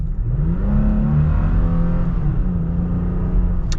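A 2022 Toyota Tacoma TRD Sport pickup with a 6-speed automatic revs up hard under acceleration, its loud droning pitch rising and shifting steadily as it pulls away, with no talking.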